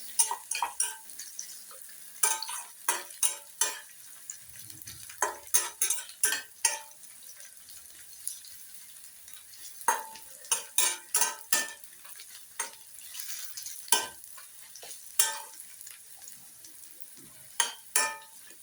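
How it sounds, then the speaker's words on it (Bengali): Onions and vegetables with ginger stir-fried in a kadai for masala oats, heard as a faint sizzle under repeated sharp scrapes and clinks of a spatula against the pan in irregular bursts, with no voices. "সামান্য একটু ভেজে নিতে হবে যাতে আদার কাঁচা গন্ধটাও চলে যায়"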